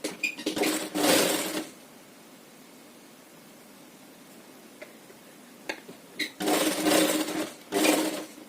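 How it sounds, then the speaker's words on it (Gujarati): A sewing machine stitches folded fabric for a rose latkan, with two loud bursts of running at the start and two more near the end, separated by a long quiet stretch with a few faint clicks. "અહીંયા આ 3 ની આપણે અહીંયા સિલાઈ લગાવી દેવાની છે।"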